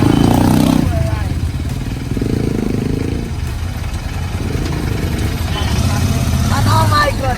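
Royal Enfield Interceptor motorcycle engine running steadily and loud, with low rumbling throughout the ride and a voice speaking briefly over it near the end.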